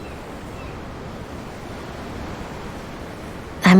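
Open ocean in Tales of Arise, heard from a ship as a soft, continuous surf wash with gentle wind hiss, ending in a sudden louder burst.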